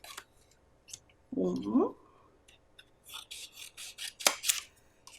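Scissors snip through paper along marked fold lines in a first-grade math class, a few short rasping cuts between a teacher's quiet talk.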